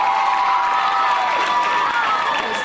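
A large crowd claps and cheers in a loud, dense roar, with shrill whoops riding over the steady applause.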